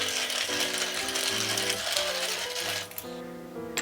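Freshly ground pepper cracking from a hand-turned pepper mill over meat being seasoned for curry: a steady, close ratcheting grind of rapid clicks running throughout, with a brief lighter pause near the end.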